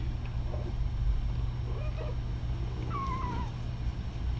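Young kittens give thin, faint, scattered meows against a steady low background hum, with one clearer rising-and-falling mew near the end.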